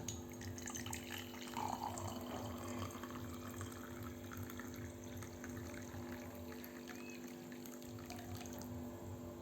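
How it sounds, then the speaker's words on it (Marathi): Hot water pours into a mug in a steady, unbroken stream for several seconds, moderately close, with a faint hum in the background. "गरम पाणी ओतायचं त्याच्यामध्ये"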